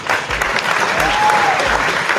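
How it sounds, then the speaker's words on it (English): A round of applause from a crowd on a late-night boxing talk show, loud, steady clapping filling the whole stretch, with a brief voice murmuring beneath it. "Round of applause for Leo."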